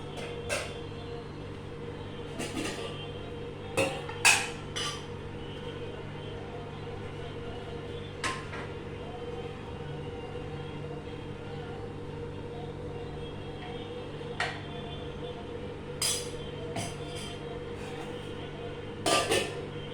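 Dishes clink and tap as a plate of cauliflower and potato curry is prepared, with sparse, light, close knocks scattered over a steady low kitchen hum.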